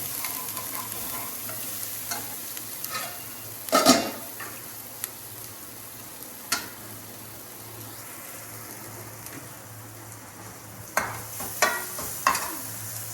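Spices for whole okra sabzi sizzle gently in a pan on a low gas flame, a soft continuous fry punctuated by a few sharp scrapes and clinks of a spoon stirring against the pan.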